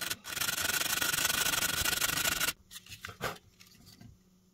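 Sandpaper rubbed rapidly and continuously along the edges of a Divo Growler, a loud dense rasping stroke for about two seconds, followed by a few softer, separate scrapes.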